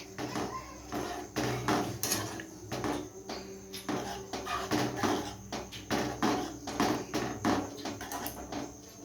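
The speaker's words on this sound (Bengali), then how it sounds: "এবার এই রুটিটাকে আমি দুধের মধ্যে দিয়ে দেব দিয়ে এটা ভালো করে আমি নাড়িয়ে নিচ্ছি" Bread pieces stirred into hot milk in a pot, giving repeated close clinking and scraping of a spoon against the pot in an irregular steady rhythm, no voices.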